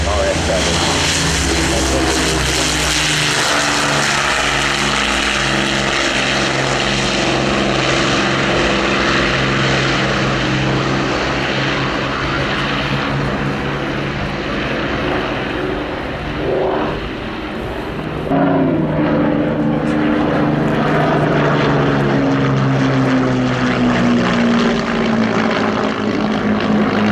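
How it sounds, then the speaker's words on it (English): Hawker Hurricane LF363, a 1944 Langley-built propeller fighter, drones loudly past in a steady piston-engine roar, its pitch dropping noticeably partway through as it passes overhead, with a voice talking over it. "Trailing her is LF363, the Hurricane, built in Langley near Slough, first flown in January 1944"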